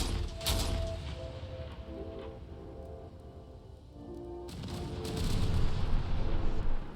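Heavy gunfire in the video game Space Engineers: loud, booming, rumbling blasts that roll continuously, dip briefly in the middle, then swell into a denser, louder barrage.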